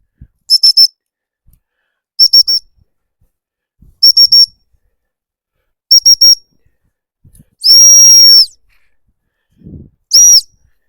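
A high, shrill 210.5 dog training whistle sounds in a series of short double and triple blasts at regular intervals, with one longer sustained blast, in otherwise quiet surroundings.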